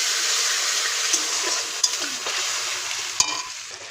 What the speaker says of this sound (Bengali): এখন বানাবো হচ্ছে পাস্তাটা আমি এখানে তেল সর্ষে আর কারি পাতা দিয়ে দিয়েছি এখন এই টমেটোটা দিয়ে